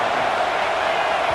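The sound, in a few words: stadium crowd roaring in EA Sports College Football 26 video game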